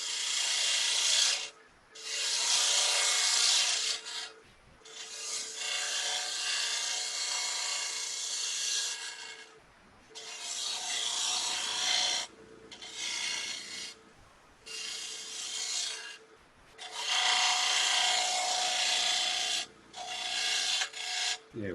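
A bowl gouge cuts wood on a lathe, making loud, steady rasping scrapes in long passes broken by short pauses as the tool is lifted and reset.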